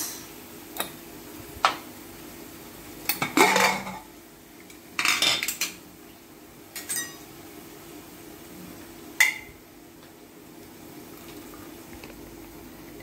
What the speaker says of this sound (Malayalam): കുക്കർ തുറന്നേക്കാം